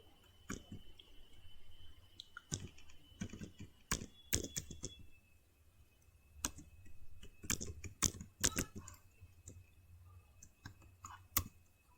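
Rapid, irregular clicks of fingers typing on a computer keyboard, with bursts of keystrokes separated by short pauses, fairly close and heard alone with a faint steady tone in the background.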